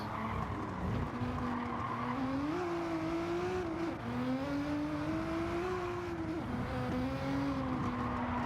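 A video game race car fitted with a racing exhaust and sports hard tyres drones steadily, its engine pitch rising and falling as it revs, with no voices.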